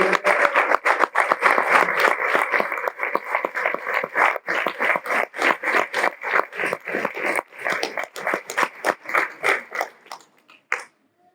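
A church congregation applauds together, a dense run of rapid claps holding steady for about ten seconds before thinning and stopping.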